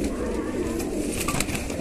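Soft, throaty pigeon cooing repeats close by over a steady background hum, with faint rustling and no talk.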